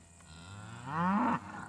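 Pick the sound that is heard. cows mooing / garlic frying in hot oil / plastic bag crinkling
cows mooing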